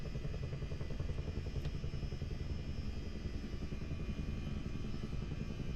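A Chinook CH-47D tandem-rotor helicopter in Microsoft Flight Simulator 2020 drones with a steady, heavy, low rotor thump and engine rumble, constant and close, with no talk.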